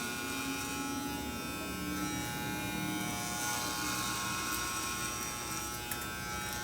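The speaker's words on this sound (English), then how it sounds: "bring your comb and comb the hair back down and clipper once again" Electric hair clippers cut through a long men's haircut, worked in vertical sections up the back and sides of the head, giving a steady, even buzz at moderate level with no pauses and no talking.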